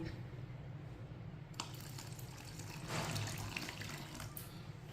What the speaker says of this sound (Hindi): अब इसमें पानी डाल लेंगे।